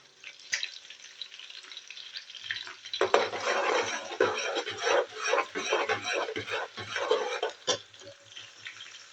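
A spoon scrapes and stirs vegetable curry with onion and green chilli in a pot, producing uneven bursts of scraping and soft sizzling, close and moderately loud, with no talking.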